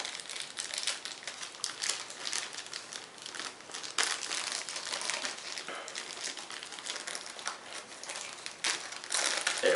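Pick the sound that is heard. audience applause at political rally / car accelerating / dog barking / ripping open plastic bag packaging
ripping open plastic bag packaging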